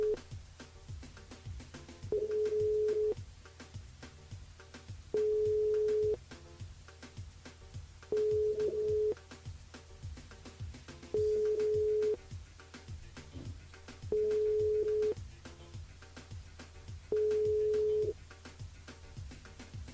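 A telephone line tone from a radio station switchboard call, repeating short steady beeps about every three seconds at moderate level, with faint background sound between them.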